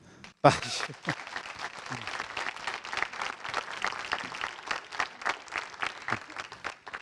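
An audience at a care-training brunch at the Croix-Rouge in Tours breaks into applause after a sudden start. The clapping is dense and steady, with murmured voices under it.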